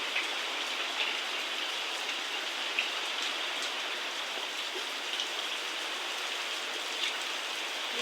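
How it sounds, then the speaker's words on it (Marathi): Heavy rain pours down during the first big downpour of the season, a dense, continuous hiss of water with scattered heavier drops, steady and enveloping with no voices. "आज पहिल्यांदा पाऊस आला आहे आणि भरपूर पाऊस आहे"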